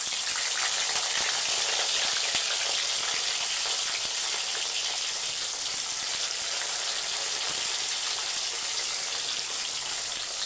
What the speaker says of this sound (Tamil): இப்போ எண்ணெய் ஹீட் ஆகிடுச்சு. நம்ம ஃப்ரெஞ்ச் ஃப்ரையெல்லாம் போட்டுடலாம்.